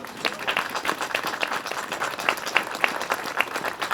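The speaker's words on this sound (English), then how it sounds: "That deserves a round of applause." Sustained applause from an audience, many hands clapping steadily throughout, dense and fairly close, with no speech.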